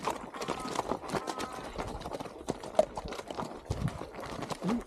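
A horse on a trail near Kolsai Lake clops along in uneven hoof steps, close and moderately loud, with light outdoor noise around it.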